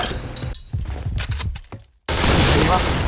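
Gunfire in a video game, a quick run of sharp close shots with crackling impacts, cut by a brief silence before a loud noisy burst.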